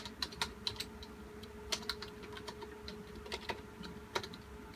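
Computer keyboard typing an IP address, quick irregular clusters of close key clicks with short pauses between bursts, quiet room, no talking.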